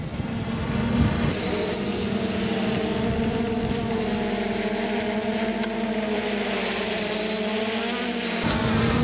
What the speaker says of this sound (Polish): to jest dron za 400 zł, on naprawdę bardzo dobrze lata